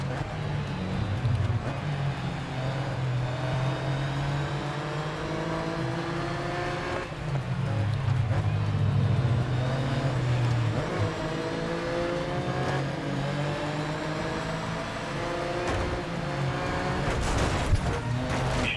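Roaring race car engines in the video game Grid Legends rev and shift continuously, with rising and falling pitch sweeps as cars accelerate, loud and steady throughout.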